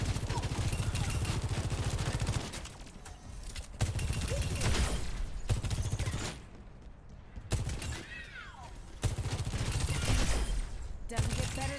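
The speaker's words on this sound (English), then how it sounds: "Railgun powered and ready to fire." Railgun fire in the Overwatch video game, with rapid bursts of shots in several long volleys broken by short gaps, loud and close, plus game announcer-style voice lines in between.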